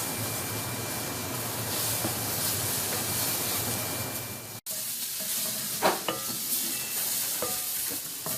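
Mushrooms sizzle steadily in a hot frying pan while being stirred, a dense continuous hiss that drops quieter partway through, followed by a few scraping clicks of the utensil against the pan.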